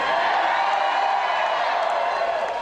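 A large outdoor crowd at a Trump rally in Bakersfield cheers and claps steadily, a dense, continuous roar of voices and applause with scattered whoops throughout.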